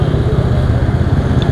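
A KTM RC200 motorcycle engine runs loud and near with a steady, throbbing rasp through a short burst.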